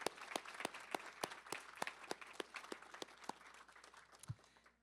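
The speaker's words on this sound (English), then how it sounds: "We want to give our facilitators from both tracks a round of applause" An audience at a family summit plenary gives the facilitators a round of applause: a steady, fairly faint, distant-sounding mass of handclaps with sharp individual claps standing out, tapering off near the end.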